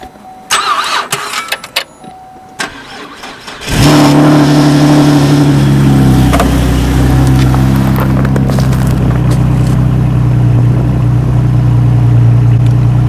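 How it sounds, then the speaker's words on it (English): A Cadillac ATS 3.6L V6 engine cranks and catches after some clatter, then settles into a loud, steady running drone with a brief rev. "It's on, car's running."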